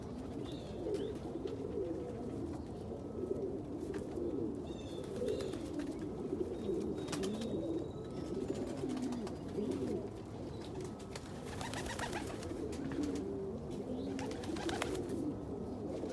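Pigeon-like birds coo softly and repeatedly, several overlapping calls at close range, with occasional faint chirps in the background.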